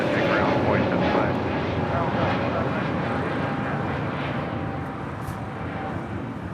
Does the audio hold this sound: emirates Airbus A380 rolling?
yes